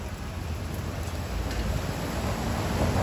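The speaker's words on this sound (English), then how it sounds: "It is actually pouring down pretty good right now." Heavy rain pours down outdoors as a loud, dense, unbroken hiss that stays steady throughout.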